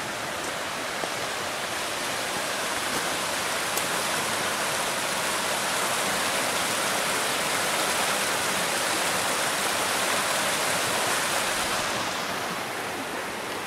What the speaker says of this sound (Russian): Слышу шум водопада.